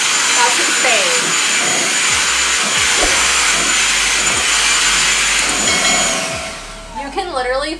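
Kenmore DS1030 cordless stick vacuum running in handheld mode, a loud, steady, close-up motor whine with airy suction hiss that holds for several seconds before dropping off near the end.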